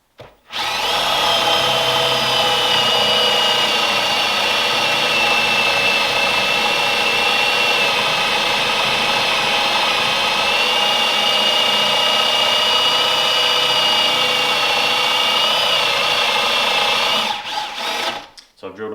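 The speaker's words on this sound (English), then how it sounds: "So I've drilled about halfway through." A power drill bores steadily through wood to cut a mortise for a pole lathe, a loud continuous whining drone that holds for about seventeen seconds before winding down near the end.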